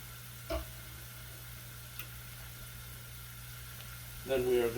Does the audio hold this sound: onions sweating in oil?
yes